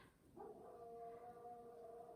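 A young Labradoodle crossed with an Airedale doodle gives a single sustained howl indoors, rising in and then holding a steady wavering tone, quiet and close with no talk over it.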